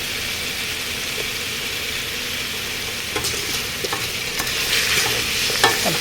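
Green chillies being stirred into khichdi frying in a pan, a steady sizzle with scattered scraping clicks from the spoon against the vessel, close and fairly loud, with no voices.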